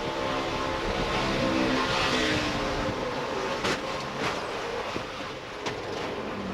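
A NASCAR race truck engine roars steadily during the 2005 Florida Dodge Dealers 250 as the driver works the throttle, with a few brief sharper surges cutting through the continuous loud racing noise.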